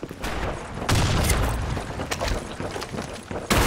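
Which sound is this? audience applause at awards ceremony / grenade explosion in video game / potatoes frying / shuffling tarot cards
grenade explosion in video game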